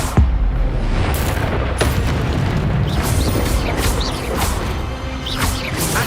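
A spell being cast in the Hogwarts Legacy video game, a sharp magical burst with booming impact and crackling whooshes, repeated bursts over a dense, loud continuous game soundscape.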